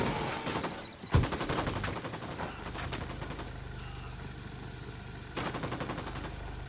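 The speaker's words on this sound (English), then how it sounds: "I'm opening fire." Gunfire in the Ghost Recon Wildlands video game, loud sustained automatic bursts rattling in rapid succession, pausing briefly, then resuming over a constant droning engine rumble.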